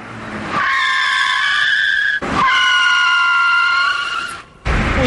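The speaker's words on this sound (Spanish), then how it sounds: "Si van directos a pisar el freno, la dirección se bloqueará" A car brakes hard on a test track with its wheels locked, giving two long, loud tyre squeals in close succession. A shorter screech follows after a brief gap.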